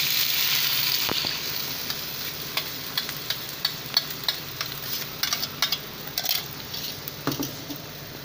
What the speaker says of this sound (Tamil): பாருங்கள் நல்லா கொதிக்கட்டும்.